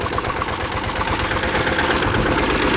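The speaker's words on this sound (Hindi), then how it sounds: "ट्रैक्टर का शोर बहुत ज्यादा है" A tractor engine runs at a steady idle on farmland, a loud continuous low rumble with rhythmic knocking pulses and no speech.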